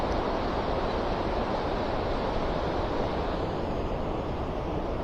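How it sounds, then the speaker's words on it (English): Water pours through the open gate of Busse Lake in a dense, constant roar, loud and near, mixed with some wind buffeting on the microphone and no talking. "the gate is open, so there's water flowing"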